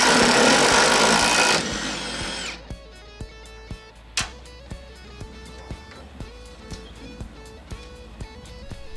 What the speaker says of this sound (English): I started by disconnecting the mounting plate from the shock.